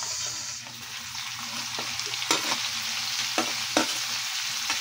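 Sliced onions frying in a hot pan for tinumis, a steady loud sizzle with occasional scraping stirs of a spatula cutting through the hiss.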